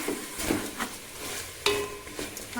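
Chicken being mixed with turmeric and salt, giving soft, wet stirring strokes that repeat in an uneven rhythm at close range, with no talking.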